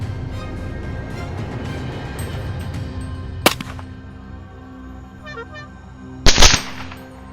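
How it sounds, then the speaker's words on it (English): A silenced rifle fires at wild boars in a swamp at night, with one sharp crack midway and a quick cluster of shots near the end against a steady low background. "In the dark night, the gunshots kept ringing"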